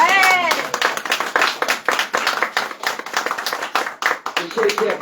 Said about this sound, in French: On peut applaudir Michel?